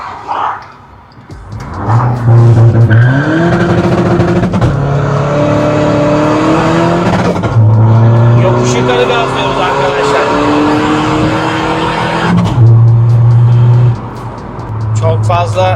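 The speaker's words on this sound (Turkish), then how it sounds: "Şöyle buradan bir yavaş mod yol müsait oldukça gazlayacağız arkadaşlar" A tuned Skoda Fabia, raised from 90 to 250 horsepower by software and modifications, revs and accelerates through rising gear-like pitch sweeps, loud and close, with someone talking over it.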